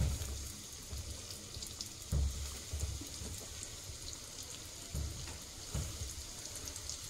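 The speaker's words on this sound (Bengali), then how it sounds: "তারপর এটা আমি মিডিয়াম টু লোতে আস্তে আস্তে ভাজবো।" Cakes fry slowly in hot oil over medium-low heat with a soft, steady sizzle and faint crackling. Occasional gentle bubbling pops break in, quiet and close, with no talk.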